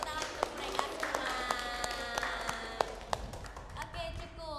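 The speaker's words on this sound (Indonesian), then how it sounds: "Beri tepuk tangan untuk mereka semua." Students in a classroom give scattered, uneven claps, sharp individual hand strikes spaced irregularly while voices chatter underneath.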